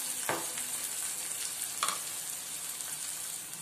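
Finely chopped tomato frying on a medium flame for vermicelli upma, a soft steady sizzle with a couple of faint stirring taps.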